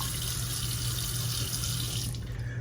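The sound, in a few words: running tap water for rinsing shaver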